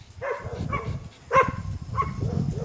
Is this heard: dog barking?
yes